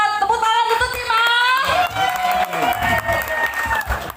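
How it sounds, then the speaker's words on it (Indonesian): An audience claps and cheers for team A at a lively community gathering while music with sustained melodic tones plays loudly over the crowd noise throughout. "Tepuk tangan untuk tim A"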